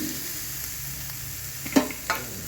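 Vegetables for shukto frying in oil with a little salt in a kadai, a faint, steady sizzle with a couple of brief clinks from a utensil near the end, no talking.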